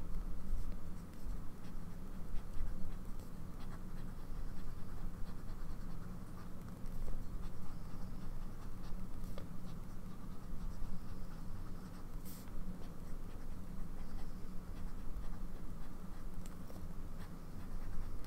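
A Vanishing Point fountain pen with a medium nib writes on paper. The nib makes a continuous soft scratching close by, steady for about eighteen seconds and heard alone.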